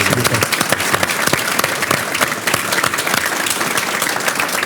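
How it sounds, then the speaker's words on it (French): Audience applause at a civic talk in Nice, dense and continuous clapping from a crowd, loud and even throughout. "Applaudissements pour Maître Louis Dubon."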